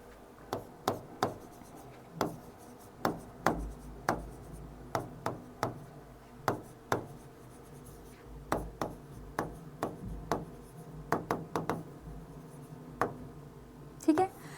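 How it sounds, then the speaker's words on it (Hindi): Someone writes a sentence on a board in an English grammar lesson, making a steady series of short, sharp taps and strokes close by, with quiet talk underneath. "तो हम इस सेंटेंस को लिख लेते हैं।"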